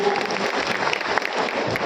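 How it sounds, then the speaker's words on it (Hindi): An audience at a mushaira poetry gathering at the Dewa Mela applauds Dr. Nadim Deobandi with dense, continuous clapping that fills the whole short stretch at close range. "जोरदार तालियां एक बार डॉक्टर नदीम साहब देवबंदी के लिए"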